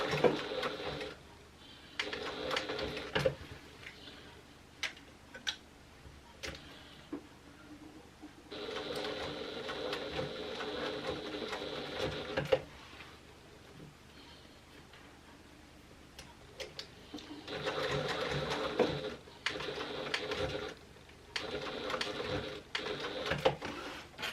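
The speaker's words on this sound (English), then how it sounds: "I'm just going to continue to sew all the way around until I get back to that stitching" A sewing machine stitches around a bag lining in several sustained runs of rapid, ticking stitches, separated by pauses with soft handling clicks.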